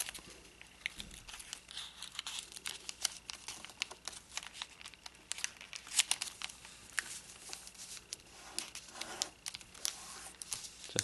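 A paper flap is folded and tucked into an envelope pocket, giving soft, close crinkling and rustling with scattered light crackles over a quiet background.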